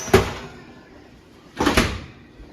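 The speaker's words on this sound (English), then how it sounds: "Close the door." Two door bangs during an outdoor pork loin barbecue cook, one early and a second louder thud with a short rattle about a second and a half later.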